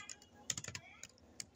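A quick, soft run of keystrokes on a computer keyboard, about a dozen light clicks in a brief burst, close and quiet with nothing else heard.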